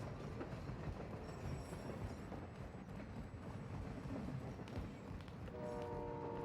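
A moving train in the video game DMZ rumbles and clatters steadily throughout, a dense rolling noise of rail wheels, with a brief tonal game sound near the end.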